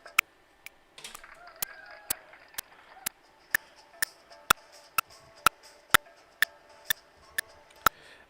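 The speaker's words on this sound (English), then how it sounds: "I'm currently typing the link again." Regular keystrokes on a computer keyboard, a crisp evenly spaced series of about fifteen close, sharp taps, with a brief cluster of faint background sound early on.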